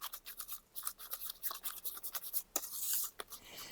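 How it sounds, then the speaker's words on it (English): A whisk stirs the wet ingredients for whole-wheat muffin batter in a bowl, making quick, scratchy, rhythmic strokes that sound close and fairly quiet, with no talking over them. "And then we're just going to whisk it together. until it combines."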